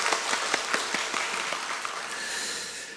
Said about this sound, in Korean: 우리 수고해 주신 모든 분들과 또 우리 청년들을 향해서 우리 축복의 박수 하겠습니다